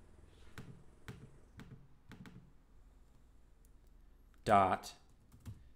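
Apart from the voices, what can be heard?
typing on a computer keyboard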